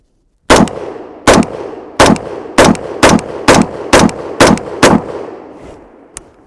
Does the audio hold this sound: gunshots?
yes